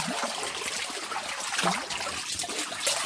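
Water in a Lay Z Spa hot tub is stirred with a kitchen strainer, giving close, continuous swishing and trickling with small splashes.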